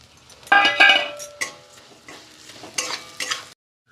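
Vermicelli tossed into hot ghee in a wok sizzles and clatters, with several sharp bursts of stirring and metal scraping spaced unevenly, close and fairly loud, before falling silent at the end.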